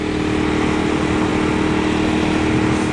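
Steady, loud engine drone from a 2017 Ducati Monster 1200 R cruising at about 50 mph down a straight road, a constant throbbing hum with wind rush over the full length and no speech.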